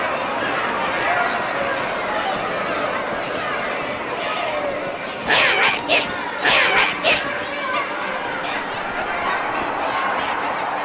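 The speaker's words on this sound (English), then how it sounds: "Drawn quite a crowd." Murmuring crowd chatter fills a Halo 2 campaign cutscene, a steady background hubbub with a few sharper bursts of voices and movement rising in the middle.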